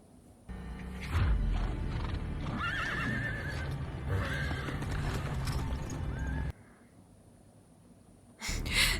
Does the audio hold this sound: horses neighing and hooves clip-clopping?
yes